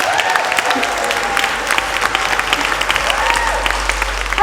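An audience applauds a speaker at a university science slam event, a dense steady wash of clapping with crowd noise throughout.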